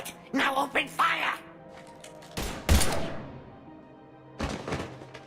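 Gunfire in Mass Effect 3 arrives as a short, sharp burst of shots, then a second, fainter volley, following a few spoken lines.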